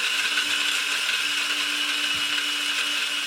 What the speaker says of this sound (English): And we be grinding.